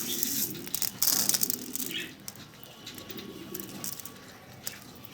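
Shirazi pigeons coo softly amid rustling and scattered fluttering, with some faint background noise and occasional sharper clatters.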